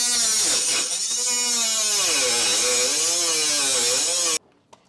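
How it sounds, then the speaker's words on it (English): A Milwaukee cordless cutoff wheel cuts metal on a Jeep Wrangler, giving a loud, high whine whose pitch wavers and dips under load for about four seconds before stopping abruptly. "I've been starting with this Milwaukee cutoff wheel. It seems to work pretty well."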